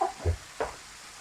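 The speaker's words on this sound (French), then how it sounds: "En mélangeant un petit peu avec la tomate concentrée, je vais prendre mon cuillère en bois." A wooden spoon stirs a tomato-paste sauce in a pan, giving a few short, soft scraping strokes against a faint sizzle.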